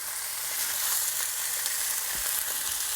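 Salmon fillets searing in a skillet give a steady, close sizzle and spatter of hot oil that runs continuously, with a few faint clicks of a utensil against the pan.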